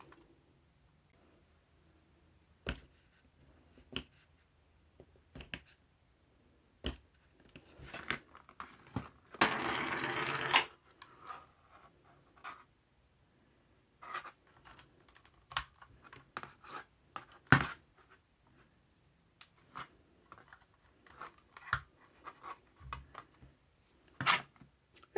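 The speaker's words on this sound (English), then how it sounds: "So I'm just going to get a craft knife and cut that down." A craft knife cuts down a plastic part for a minidisc cradle, with scattered sharp clicks and scratchy scoring strokes and a longer rasping cut in the middle, close and fairly quiet with no talking.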